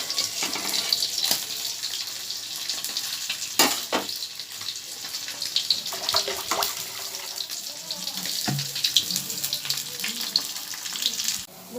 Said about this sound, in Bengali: দেখুন জলটা ফুটছে